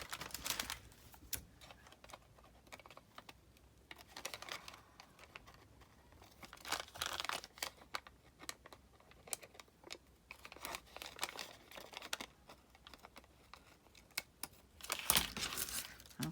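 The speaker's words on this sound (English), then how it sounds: "I'm gonna cut each of these end pieces off" Paper is being creased and cut to make a paper bag, with quiet irregular crinkling, folding rustles and short snipping or tearing bursts spread across the clip, close and soft, with no speech.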